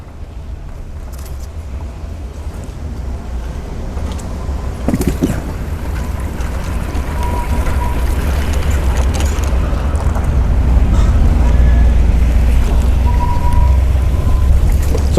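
A Quantum Edge 2.0 power wheelchair in blue rolls steadily over grass outdoors, a continuous low motor and tire rumble that grows gradually louder as it drives, with wind-like noise and occasional small knocks.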